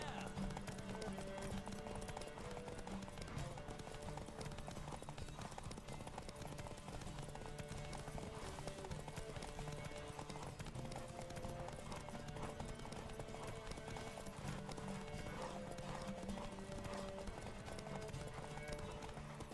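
Rhythmic hoofbeats of a galloping horse in The Witcher 3: Wild Hunt continue steadily for the whole stretch, with music and occasional voices over them.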